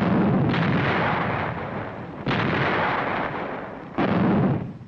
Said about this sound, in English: Artillery joined the concert of mortars